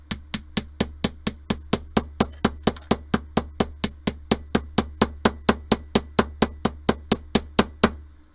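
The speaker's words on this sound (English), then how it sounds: "Here I go, hammering in 3," Wire hoop earrings being hammered flat in a beading tutorial: a long, steady run of about thirty sharp metallic taps at an even quick rhythm, close and clear, then stopping.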